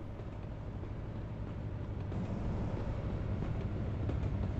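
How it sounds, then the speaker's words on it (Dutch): A train rumbles past in a truck-driving video game, a steady low roar that swells slightly in the second half. "Oh, nog een treintje hier ook."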